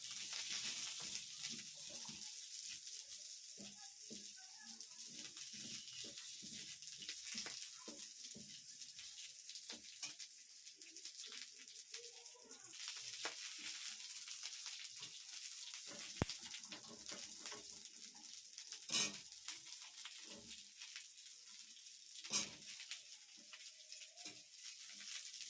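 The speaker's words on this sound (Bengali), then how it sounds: "পেঁয়াজের টুকরোগুলোকেও হালকাভাবে ফ্রাই করে নিতে হবে।" Onion pieces frying lightly in a pan give a soft, steady sizzle with scattered crackles and occasional clinks of utensils, fairly quiet and continuous.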